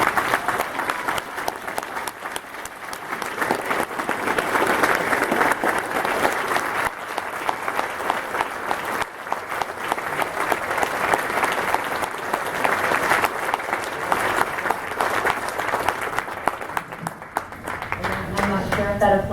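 Sustained, dense audience applause fills an award ceremony hall for the Iron Mike Mazurki Award at the Cauliflower Alley Club, steady and loud throughout with scattered cheers, fading slightly near the end.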